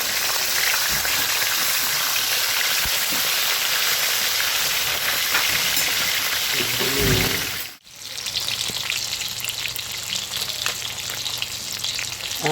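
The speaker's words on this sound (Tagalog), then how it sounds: "medyo mild lang na pagkapirito kasi gagataan pa naman natin ito" Tilapia fries in a pan of hot oil, a loud, dense, steady sizzle that cuts out abruptly partway through, then returns slightly softer and crackling.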